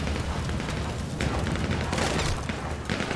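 Dense, continuous gunfire in a first-person shooter game, a near, loud barrage of overlapping shots and booms filling the whole stretch with no pause.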